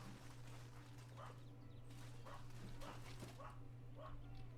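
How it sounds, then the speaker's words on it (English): Dogs in the video game Civilization VI bark a handful of times, short faint yaps spaced about a second apart over a steady low hum. "Dogs like to bark."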